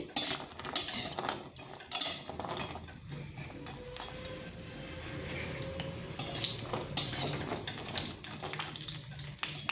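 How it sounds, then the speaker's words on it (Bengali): Lentil dumplings (bori) frying in mustard oil, a soft low sizzle under clinks of a utensil stirring and scraping in the pan, fairly quiet and close. "এখানে প্রথমে বড়িগুলো ভেজে নিচ্ছি।"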